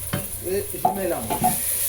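Chives, cherry tomatoes and blended onion stirred in a saucepan, with several wet scraping, squelching strokes over a soft sizzle, close and clear.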